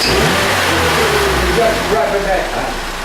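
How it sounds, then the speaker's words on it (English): A Vauxhall Corsa engine with a logged O2 sensor fault code revs up under a loud, steady engine drone, with a voice talking over it throughout. "We're just revving it now."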